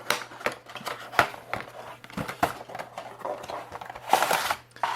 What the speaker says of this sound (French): On va déballer le produit